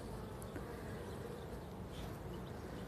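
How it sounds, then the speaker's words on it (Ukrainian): Honeybees buzzing at the lower entrance of a hive in an apiary, a faint continuous drone of many insects close by, steady throughout with no talk. "Так іноді якась бджолка залітає через маленький отвір нижнього льоточка."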